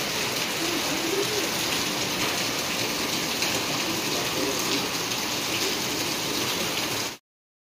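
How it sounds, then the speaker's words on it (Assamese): Steady, heavy rain hisses and patters on surfaces for several seconds, dense and close, then cuts off abruptly. "বৰষুণ দি দিলে"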